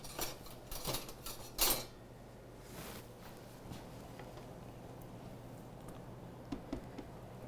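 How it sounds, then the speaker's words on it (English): A spatula scrapes down the sides of a mixing bowl of smooth cheese filling, with a few quick scraping clicks early on and then quieter, sparse taps. "I'm gonna grab a spatula to scrape down the sides."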